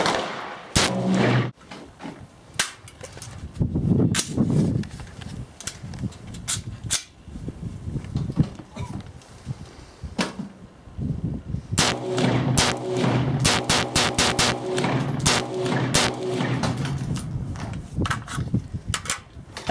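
Semi-automatic gunfire from a home-built AR-15 rifle, sharp loud cracks fired singly and in quick strings with pauses between, close by and echoing, with no talk.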